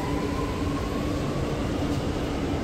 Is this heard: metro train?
yes